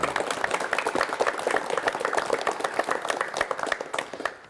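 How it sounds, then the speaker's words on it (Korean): A studio audience on a 1986 Korean television talk show claps steadily to welcome a guest, dense, even applause that continues throughout before tapering slightly at the end. "박수로 맞이해 주십시오."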